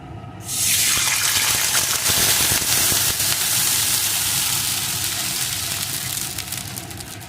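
Water poured into hot fried spices in a pan while making mango chutney, an abrupt loud hissing gush that holds steady and slowly eases over several seconds, close up with no talk.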